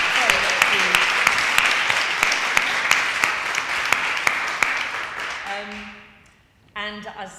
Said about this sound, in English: So I think a big round of applause for all that.